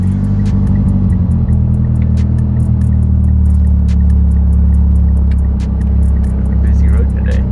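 Steady road traffic hums close by, a continuous low drone of passing cars with some engine revving, while people talk over it throughout.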